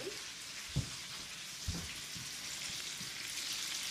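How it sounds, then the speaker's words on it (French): Eggplant stuffed with filling and dredged in flour fries in hot oil with a steady, hushed sizzle, broken by two soft knocks near the start. "Et on met ça dans l'huile chaude."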